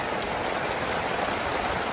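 Heavy rain pours down steadily in Korat, Thailand, a dense, constant hiss of drops hitting surfaces nearby with no pauses and no voices.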